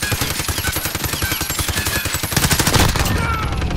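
Rapid automatic gunfire rattles through a video game match, a fast, evenly spaced stream of sharp close shots firing almost without pause for the whole few seconds.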